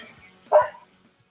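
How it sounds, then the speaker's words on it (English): A dog barks once in the background, a short sharp burst rising out of quiet room noise and then fading, with no other sound around it. "Was that a dog barking in the background?"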